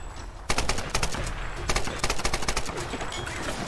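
Rapid automatic gunfire rattles out in the Tomb Raider video game, loud close bursts of fast repeated shots with brief gaps between volleys.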